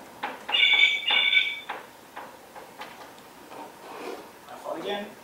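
A mobile phone rings in a two-bedroom ocean-view suite at Villa del Palmar Flamingos, its bright electronic tone sounding in short, repeated bursts before it gives way to softer rustling and handling noises.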